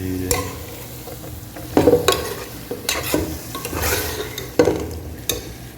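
Precooked mutton tipped into a pot for wedding-style mutton dum biryani and stirred, giving loud, close scraping and clanking stirs over a steady frying sizzle, with no talking.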